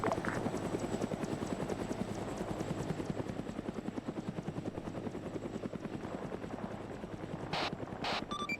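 Military helicopter in a video game campaign, a steady rhythmic rotor thump close by that continues throughout, with a couple of brief sharp clicks near the end.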